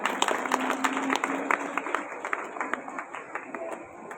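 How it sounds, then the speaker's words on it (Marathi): An audience at a village social-service association's 75th anniversary ceremony breaks into applause, a crowd of hands clapping in a lively, uneven patter that fades slightly toward the end, with voices mixed in. "जोरदार आणि बहारदार टाळ्यावर जाऊ द्या"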